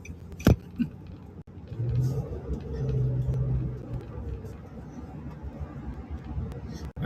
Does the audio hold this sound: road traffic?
yes